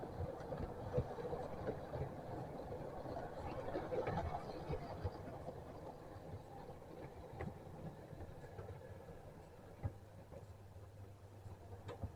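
A model railway train crawling slowly along the track with a low, steady motor rumble and faint clicks over the rails, under a little background noise.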